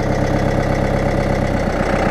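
A farm tractor engine idles steadily close by, a continuous low rumbling throb with a regular mechanical pulse and no speech over it.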